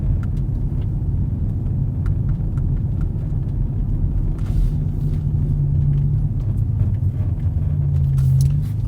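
Steady low rumble of a car driving along a road in South Jackson, Mississippi, constant engine and tire noise with no talking.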